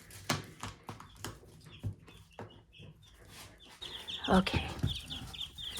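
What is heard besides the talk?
chickens clucking on a hobby farm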